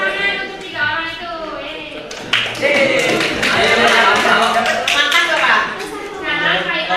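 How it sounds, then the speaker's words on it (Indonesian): Applause from students in a classroom for three classmates, scattered clapping rising under a teacher's voice and children's chatter, with talk continuing throughout. "Kita beri tepuk tangan untuk 3 orang itu."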